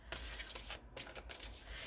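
Oracle cards being shuffled by hand, a steady run of papery riffling and rubbing with brief pauses, close up and fairly quiet, with no talk.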